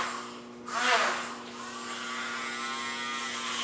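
An electric nail grinder whirs against a small dog's nail, a brief rising buzz lasting about a second close up, then a steady quiet motor hum continuing, with no talk.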